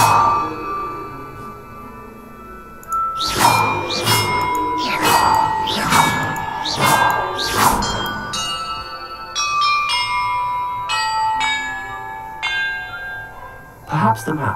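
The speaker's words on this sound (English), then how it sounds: "Perhaps the map contains clues about the order I'm supposed to ring the bells in." Bells ringing in the video game Hogwarts Legacy, a series of loud, resonant strikes in rapid succession, followed by lighter, higher chimes and one more sharp clang near the end, with game ambience underneath.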